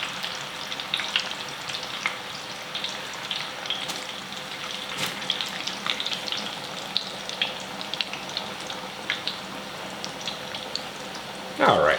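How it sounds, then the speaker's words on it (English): Potatoes fry in about two quarts of oil in a cast iron pan, a continuous bubbling sizzle with scattered crackles and pops, close, with a brief louder burst at the end and a voice occasionally talking. "put about 2 quarts in my cast iron pan here, and then I'll fry maybe half of the potatoes now"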